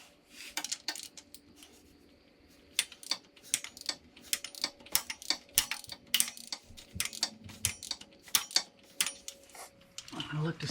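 Engine crank of a Triumph Tiger 900 Rally Pro being turned by hand during reassembly after a valve adjustment, giving a run of close mechanical clicks and ratcheting ticks in irregular bursts.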